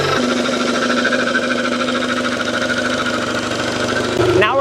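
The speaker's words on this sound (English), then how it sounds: "try the motor out, and hopefully it stays running" An outboard boat motor on a refurbished abandoned boat runs steadily and loud throughout, a rough mid-pitched idle with a faint knock, then revs briefly near the end.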